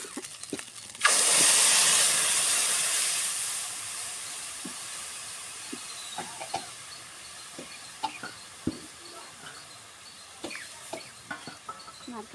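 Coconut milk hits a hot pan of spice paste for an egg curry and bursts into a loud, close hiss that slowly fades. Scattered clinks and scrapes of stirring follow. No one speaks.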